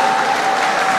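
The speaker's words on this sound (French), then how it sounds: "est-ce qu'on peut bien applaudir pour la grande orientale?" Dense, loud applause from a large audience at a Congolese political gathering, a brief continuous burst of many hands clapping.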